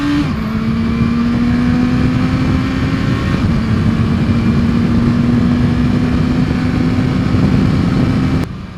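A 2014 Honda CBR650F inline-four motorcycle on a test ride drones steadily under acceleration, its engine note holding a high sustained pitch with wind rush, heard close from the rider's position.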